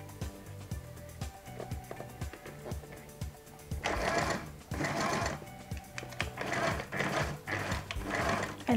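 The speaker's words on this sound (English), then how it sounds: "Then I will continue stitching with 1/2 inch seam allowance." A domestic sewing machine stitches a trouser seam with a half-inch allowance, a steady mechanical whirr with rhythmic ticking that swells into several louder running bursts toward the end.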